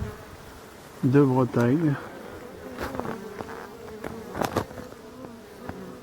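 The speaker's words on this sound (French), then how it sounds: "voilà la célèbre abeille noire" Black honeybees, the native dark bee of Brittany, buzz in a wild colony in the Quellen marsh, a low droning hum with close passes rising and fading, while someone speaks briefly in French.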